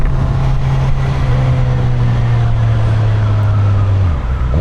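A Suzuki GSX-S 1000 motorcycle engine drones loudly and evenly while riding, holding a steady pitch before easing off near the end.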